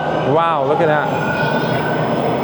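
Subway train idling in a station, a steady loud rumble with a brief rising-and-falling whine near the start, while a voice speaks briefly over it.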